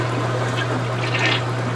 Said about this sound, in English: And flush the drain.